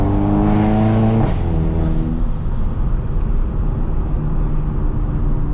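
Volkswagen MK7 GTI engine revs loudly up to a peak, then drops off into a steady rumbling idle, with echo from surrounding trees.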